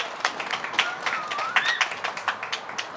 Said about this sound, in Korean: 우리 다 함께 하나님께 감사의 박수를 한번 돌려드립시다.